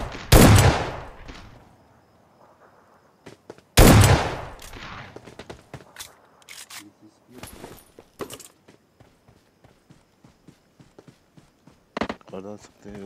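Gunfire in an online shooter video game match: two loud, close bursts of shots open the clip, followed by scattered quieter shots, clicks and footstep-like thuds as a voice talks at times.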